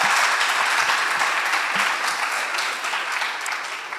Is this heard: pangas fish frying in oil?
no